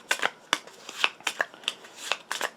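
A deck of playing cards is shuffled during a tabletop card game, giving a quick run of crisp, papery riffle bursts that flutter in a steady rhythm, close and clear with no voices.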